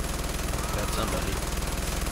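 Steady, rapid machine gun fire in the video game Far Cry 4, a loud continuous rhythmic burst with regular, evenly spaced reports.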